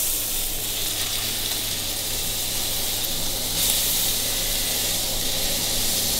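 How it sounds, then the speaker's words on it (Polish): Loud, continuous sizzling of beef tenderloin steak frying in a hot pan, a steady bright hiss with crackling spatter and no talking. "na bokach będziemy smażyć tą polędwicę po jednej minucie"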